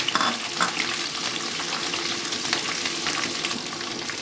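Peeled garlic frying in hot oil for a tangy-spicy raw mango pickle, a steady, fairly loud crackling sizzle throughout with a few sharper pops, no voices.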